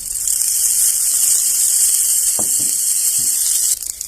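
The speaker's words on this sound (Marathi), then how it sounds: "कांदा भाजून घेऊन तळून घ्यायचं थोडंसं थोडंसं तेल घालून घ्यायचं" Onion fries in a little oil for a spicy black-masala green vegetable dish, a loud, steady close sizzle hissing continuously, with a couple of soft stirring knocks near the middle and a brief dip before the end.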